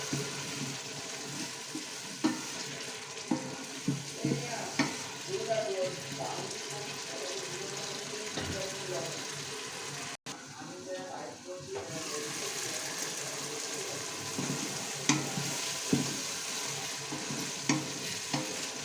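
Green chilies and tomato frying with cooked-down spices in a pan, a steady sizzle with regular stirring scrapes and occasional clanks throughout, close and continuous.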